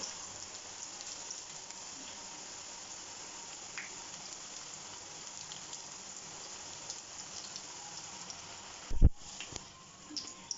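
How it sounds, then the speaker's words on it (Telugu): Spinach pakoda batter frying in hot oil gives a steady, even hiss and crackle throughout, with a brief louder clatter near the end. "ఆ కూర ఇందాక పకోడి కలిపి పెట్టుకున్నాం కదండి సో అదైతే వేసేస్తున్నాం ఆయిల్లో"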